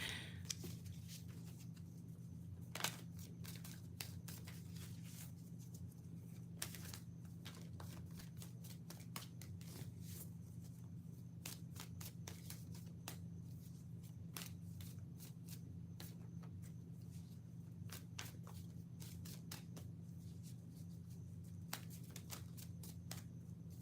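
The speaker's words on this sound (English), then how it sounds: "I'm gonna pull cards over here" Tarot or oracle cards being shuffled and pulled for a reading: repeated soft riffling and flicking bursts, some in quick clusters, over a steady low hum, fairly quiet and close, no talking.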